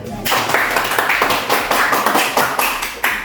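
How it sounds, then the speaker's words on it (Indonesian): A school class claps hands together after a group presentation, a lively burst of many hands close by, rising quickly and fading slightly toward the end. "Satu kali tepuk tangan lagi."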